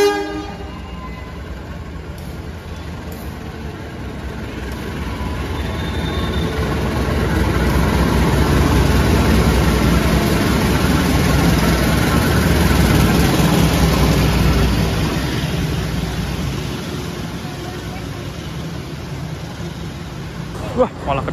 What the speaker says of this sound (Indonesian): Kereta api Bengawan masuk jalur 2 stasiun Lempuyangan